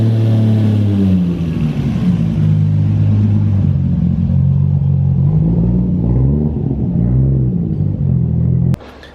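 A Toyota Supra idling after a new fuel system was fitted, a loud, close, steady engine rumble with a deep throbbing note and slight wavering, cutting off abruptly near the end.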